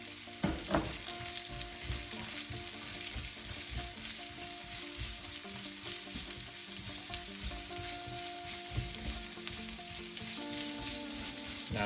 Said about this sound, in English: Cease their cooking by adding chopped onions in there.